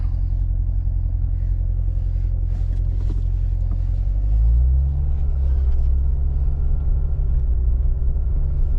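A yellow Chevrolet Corvette C7 Stingray idles with a deep, loud rumble from inside the cabin, then the engine note rises and settles into a heavier drone as the car pulls away. No one speaks.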